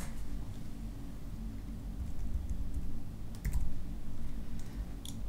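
A database name being typed on a computer keyboard, quick soft key clicks in uneven bursts close to the mic, with a faint steady background hum.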